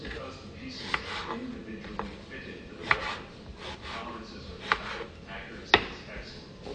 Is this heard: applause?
no